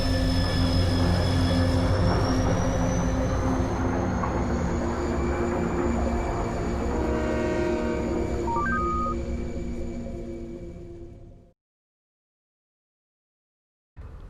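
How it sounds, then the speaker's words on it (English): A train departs in the video game Halo 3: ODST, a steady humming drone with a slowly rising whine that fades out, then silence before a brief return of sound. "Last train. Now departing."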